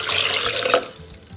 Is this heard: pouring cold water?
yes